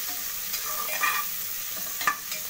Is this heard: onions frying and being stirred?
yes